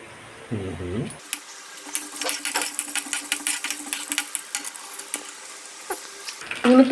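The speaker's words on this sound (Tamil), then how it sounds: "எண்ணெய் காஞ்சதுக்கப்புறம் கொஞ்சமாக உளுத்தம் பருப்பு கொஞ்சமாக கட்டி பெருங்காயம் போட்டுக்கலாம்" Urad dal and lump asafoetida frying in hot oil for a chutney, giving a crackling, popping sizzle with irregular sharp bursts after a brief low hum at the start, nearby and moderately loud.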